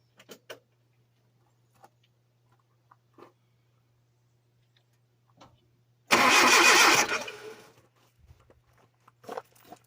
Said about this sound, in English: let's get in here and give it a crank and see if we see something